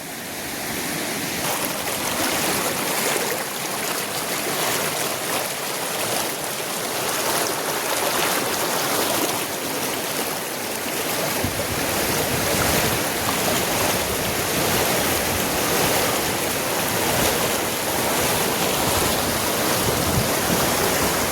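Rushing floodwater in a farm stream, a steady broadband roar of flowing water that holds throughout and swells slightly louder in the second half, with no voices.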